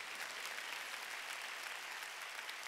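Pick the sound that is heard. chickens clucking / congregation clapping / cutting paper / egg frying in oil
congregation clapping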